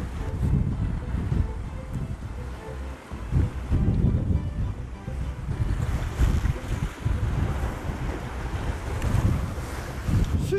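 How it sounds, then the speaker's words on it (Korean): Ocean swell surges against a rocky sea-fishing outcrop, Tanggeon-yeo in Korea, in late autumn: a continuous loud wash of waves with heavy wind buffeting the microphone and no voices. "와, 너울 파도 좋아요. 아주 좋아요."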